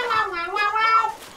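A human voice mimics cat meows to carry the Journey to the West theme melody, a string of sliding, nasal meow-like tones close to the microphone, sung alone.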